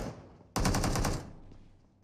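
A rapid burst of automatic gunfire in PUBG Mobile as a bot is shot, about seven quick loud close shots in under a second, then a fading tail with no talk.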